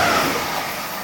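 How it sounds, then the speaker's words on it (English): Class 180 diesel train arriving at Welham Green station, a steady broadband rumble and rush that is loud and close at first, then eases slightly as it draws in, with no voices. "the next train to turn up is a 180."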